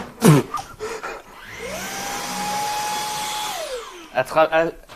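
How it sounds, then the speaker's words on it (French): A vacuum cleaner is switched on to clean out a desktop PC: a loud steady whine rises in pitch, holds for a couple of seconds, then winds down, with people talking briefly just before and after. "Attends, je vais aspirer ton PC."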